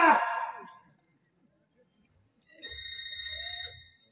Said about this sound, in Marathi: मेरा यार का फोन आ गया